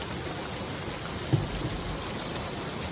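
Steady rain falls across a rural stretch of Xaisomboun, Laos, with a single low rumble of thunder breaking through briefly midway and no voices.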